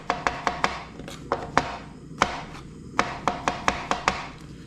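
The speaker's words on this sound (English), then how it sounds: "Then we're going to slice up 2 mushrooms." Two mushrooms sliced with a knife on a cutting board, a quick series of crisp close chops in small rhythmic bursts, no talk.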